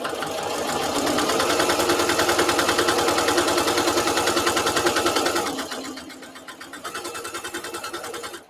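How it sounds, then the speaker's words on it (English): A sewing machine stitching across a quilted placemat runs in a steady, rapid mechanical chatter for several seconds, briefly slows and softens, then speeds back up, close and loud with no talking. "now I'm heading on the other angle of stitching"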